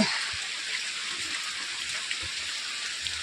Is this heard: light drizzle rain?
yes